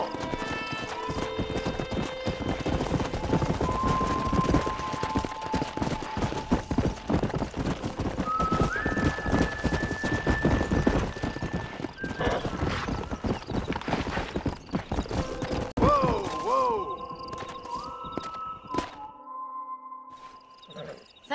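Horses clip-clop steadily along in the Red Dead Redemption video game, hooves beating in a brisk rhythm, with a couple of sharp neighs and whinnies rising over the hoofbeats and a soft musical backdrop.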